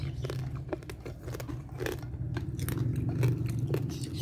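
Someone bites into crispy air-fried lechon pork belly, and irregular crunchy chews and bites sound up close over a low background hum.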